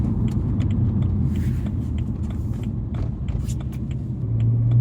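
Inside a BMW M3 E90 cruising in normal mode, a low, steady engine and road rumble drones from the cabin, with light rattles and ticks above it and a slight rise in engine tone at the very end.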